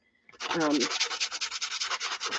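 Steady back-and-forth sanding strokes along wood edges with a rough, scratchy rasp, close up and rhythmic, following a short squeaky scrape at the start.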